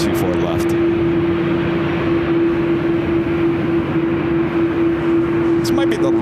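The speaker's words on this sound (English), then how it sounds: "This might be the loudest Dreamliner I think I've ever heard." A Boeing 787-8 Dreamliner bound for Mexico City rolls on runway 24 left at LAX, giving a loud, sustained jet roar with a steady droning hum underneath, while people talk nearby.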